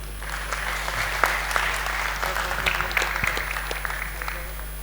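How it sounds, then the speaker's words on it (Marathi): An audience at a leadership session breaks into steady applause, dense overlapping clapping continuing for several seconds over a constant low electrical hum, with faint voices. "मग टाळ्या वाजवायच्या."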